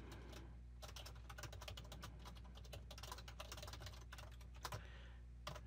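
Rapid typing on a computer keyboard, a steady run of close, crisp keystrokes with a few louder taps near the end, heard alone with no speech.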